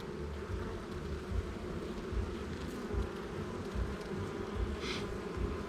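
Honeybees hum steadily across a hive frame held open during an inspection, a dense continuous buzz close by with no voices.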